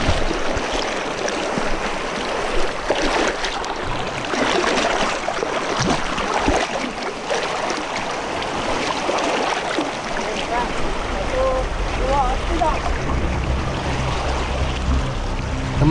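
A boat pushes through river rapids, water rushing and churning steadily with a motor drone underneath and faint voices in the background.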